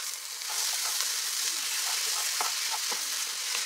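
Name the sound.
refried beans frying in a pan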